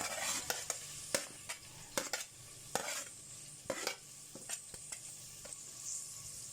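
Roughly cut onion fries in hot oil for a mutton shami kabab, giving a steady sizzle broken by repeated sharp scrapes and clinks of a stirring spoon against the pan, close and fairly quiet.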